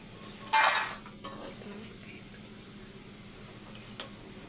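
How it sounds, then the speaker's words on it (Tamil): Fried meal maker soy chunks are scooped out of hot frying oil with a metal ladle: one loud scraping clatter near the start, then a few soft knocks against the pan over a faint low sizzle. "நல்லா எண்ணெயை வடிச்சிட்டு எடுத்துடலாம்."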